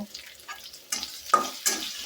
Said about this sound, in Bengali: পেঁয়াজ কুচি দিয়ে দিলাম এটা আমি এখন লাল লাল করে ভেজে নেব